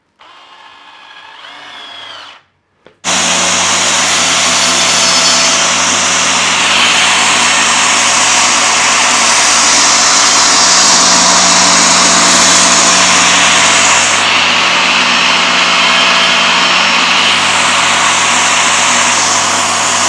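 An ENON XE-4002 angle grinder fitted with a circular saw blade spins up after a short quiet start, then runs steadily as a loud, continuous high whine with a low motor hum for the rest of the clip.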